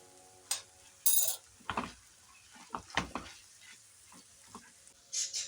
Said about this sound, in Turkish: İyice kavrulan iç malzemenin içine şöyle bir yemek kaşığı salça atıyorum arkadaşlar